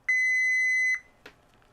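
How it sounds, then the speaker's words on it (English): A Fluke 87 multimeter on its continuity setting gives one steady, clear beep lasting just under a second, followed by a faint click in a quiet room. "So I'll get a beep if it finds ground."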